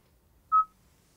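A single short electronic tone sounds as a call is placed through Android Auto, a clean beep alone against near silence.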